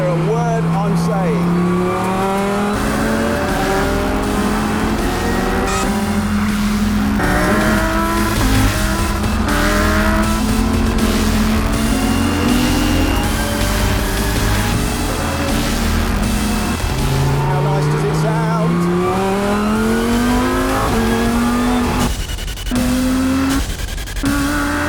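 Lamborghini Huracan GT3 race car accelerating hard on a track, its engine note climbing through repeated upshifts with brief tire squeal, loud and continuous throughout.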